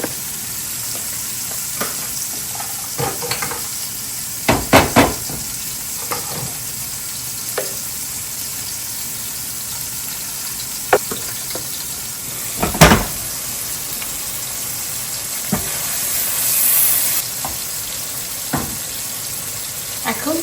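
Onions frying in a pan with salt and turmeric give a steady, soft sizzle, broken by scattered spoon scrapes and light clicks at a moderate distance, with no one talking.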